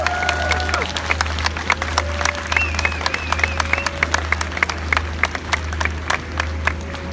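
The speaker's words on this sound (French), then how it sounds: "je demande juste qu'on les applaudisse parce que c'est très bien ce qu'elles font" Rally crowd at an anti-racism, anti-police-violence demonstration in France applauding sign language interpreters, a dense steady clapping throughout over a constant low hum, with a few voices and whistles mixed in.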